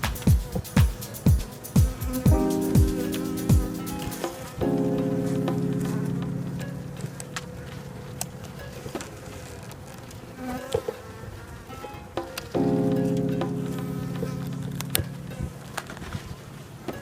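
A swarm of honeybees at an exposed hive on a school roof drones in a steady close buzz throughout, with louder surges and sharp thuds and clatters of handling mixed in.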